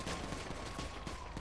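Video game gunfire in a police roleplay server, a rapid dense fusillade of shots filling the whole moment at steady loudness with no talk.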